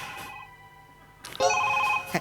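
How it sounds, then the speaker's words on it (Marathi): A telephone rings twice, a steady electronic trill that pauses briefly before the second longer, louder ring, with no talking. "पुतल्याचा फोन वाजतोय."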